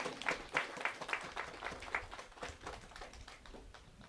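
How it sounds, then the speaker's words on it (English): An audience at an outdoor playground handover ceremony claps briefly, a thin patter of hands that is fairly faint and fades over a few seconds. "let's give Mr. Raymond a round of applause for that"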